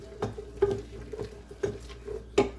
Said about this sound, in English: Let's mix this butter and these onions around and get them really going.